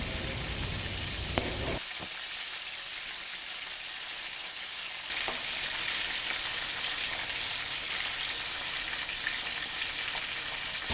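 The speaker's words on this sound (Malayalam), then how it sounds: "ഒരു മീഡിയം ഫ്ലെയിമിൽ ഏകദേശം 8 തൊട്ട് 10 മിനിറ്റോളം ഷാലോ ഫ്രൈ ചെയ്യണം" Quail shallow frying in a pan over medium flame, a soft continuous crackle and sizzle with a small knock early on and the frying growing a little brighter partway through, no voices.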